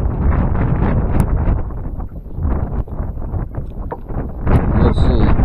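Strong wind gusting across an open fishing spot on a windy day of crappie fishing, rumbling steadily into the microphone for the whole stretch and swelling louder near the end, with no one talking.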